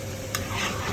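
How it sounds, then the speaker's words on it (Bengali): A brief close scrape and sizzle as chicken biryani is stirred in a pot, a single stroke of the spoon over a steady low cooking hiss. "দেখেন আমাদের বিরিয়ানিটা সুন্দর করে নাড়াচাড়া দিতে আসি"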